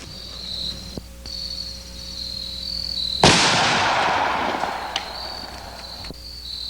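A single loud, close gunshot from a big .45 Ruger revolver fired at bowling pins outdoors, a sharp blast with a long decaying echo against steady cricket chirping, followed by a few fainter knocks.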